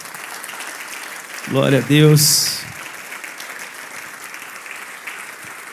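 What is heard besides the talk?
congregation applause in church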